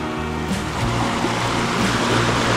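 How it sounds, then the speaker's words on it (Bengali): Water rushes steadily down a stream near a waterfall at Upper Diyaluma in Sri Lanka, a loud continuous roar and churn filling the scene without voices. "এই দেখুন এখান দিয়ে কিন্তু জলটা আসছে, পুরো জলটা এসে এদিকে চলে যাচ্ছে"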